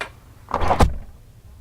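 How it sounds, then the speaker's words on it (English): A single door at the Ellie Phillips Library in Eau Claire swings and shuts with a brief rustle and a dull thud, close by, followed by quiet. "I'm going to go ahead and close the door"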